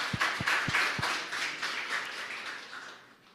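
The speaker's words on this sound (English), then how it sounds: "A big applause, please." Applause from an audience at a startup demo day after a pitch, a few sharp separate claps that soften into a brief, fading patter, fairly faint and distant.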